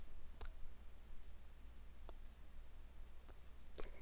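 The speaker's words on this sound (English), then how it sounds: "Okay, so double click it." A computer mouse double-clicked to open Malwarebytes on a PC, giving sharp, faint clicks spaced across a few seconds over a steady low background hum.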